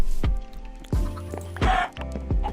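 Minecraft chickens cluck in short, sharp clucks repeating about every half second, with one longer squawk in the middle, close and clear without talk.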